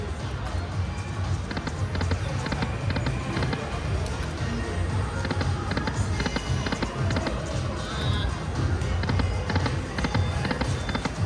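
Casino slot machine game with firecracker bonus effects: a dense, continuous wash of crackling pops and electronic chimes rings out loudly for the whole stretch, with faint talk mixed in underneath.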